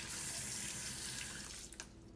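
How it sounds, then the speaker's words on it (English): Cold tap water runs steadily from a faucet into a bowl of raw shrimp in a kitchen sink, a continuous close splashing rush that tapers off near the end. "I'm gonna put some water in it. Some cold water because you don't want the shrimp to cook."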